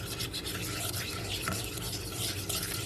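A homemade face pack mixed with fresh milk is stirred briskly in a small bowl, producing a continuous close, gritty rubbing and scraping sound for a few seconds, with no speech.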